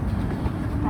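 Low, steady rumble of a Tokyo train in motion, with continuous rolling noise close by and a voice speaking faintly over it.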